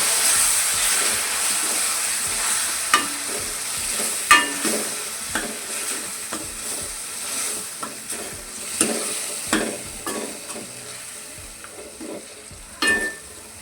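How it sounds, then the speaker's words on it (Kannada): Ground tomato frying and being stirred in a pan, a steady loud sizzle with repeated scraping strokes of the spoon throughout, no voices. "ಇವಾಗ ರುಬ್ಕೊಂಡಿರೋ ಟೊಮೊಟೊನ ಹಾಕಿ ಸ್ವಲ್ಪ ಹಸಿ ಸ್ಮೆಲ್ ಹೋಗೋವರೆಗೂ ಚೆನ್ನಾಗಿ ಅದರಲ್ಲೇ ಫ್ರೈ"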